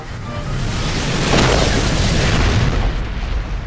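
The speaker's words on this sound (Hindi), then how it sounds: "धमाका हुआ है, भागो भागो।" A big explosion in a dubbed Hollywood action movie, a loud sustained roaring blast that swells and rumbles for several seconds with no speech.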